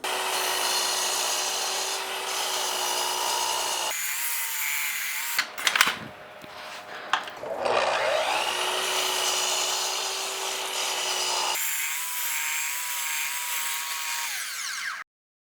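A miter saw spins up and whines steadily while cutting angles in a wooden mallet, with a short, clattering bite through the wood midway before the motor hum resumes and winds down, all close and loud with no talk.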